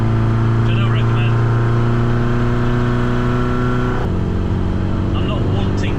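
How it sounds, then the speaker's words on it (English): A Classic Mini engine drones loud and strained at high revs on a mountain road, a steady harmonic whine from inside the car that shifts pitch briefly near the end, with faint background noises. "there's the engine screaming because it's not geared to do 70"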